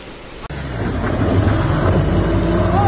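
A stuck car being pulled out, its engine straining with a low rumble that builds after a brief sharp drop and holds steady and loud, the clutch plate worn out.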